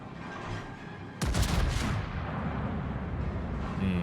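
A heavy naval gun salvo from the battleship Preussen firing super heavy armor-piercing shells in World of Warships, one sudden deep boom with a rumbling roar that decays over a second into steady engine and sea ambience.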